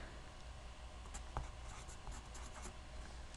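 A marker squeaks and scratches over a board as an equation is written, a faint, close series of short strokes with one sharper tap partway through.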